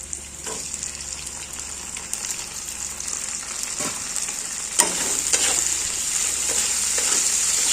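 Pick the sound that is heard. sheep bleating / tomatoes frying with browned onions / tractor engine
tomatoes frying with browned onions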